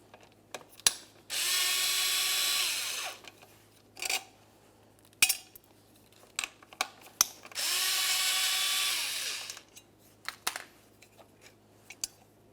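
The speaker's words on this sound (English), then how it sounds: "Go ahead and remove these two 7mm headed bolts." A power ratchet or drill backs out two 7mm bolts from the radiator fan housing of a 2012-2017 Toyota Camry, two steady whirring bursts of about two seconds each, close up, with clicks and clanks of handling in between.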